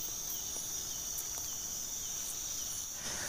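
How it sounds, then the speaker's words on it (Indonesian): Crickets chirp at night in a steady, high, continuous drone, with faint insect clicks scattered over a quiet, hissy background. "Ini cuma suara jangkrik sama suara krepet gitu sih"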